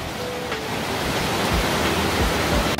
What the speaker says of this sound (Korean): 동굴 폭포예요.